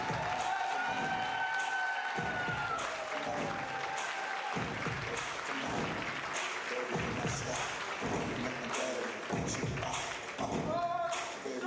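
Audience at a gala ball, the Pink and Black Ball, claps steadily throughout, a dense wash of applause with some cheering and a few thuds, loud and sustained with no pauses.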